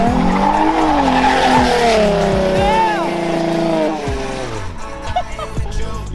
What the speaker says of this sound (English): She's gonna try to do some burnouts.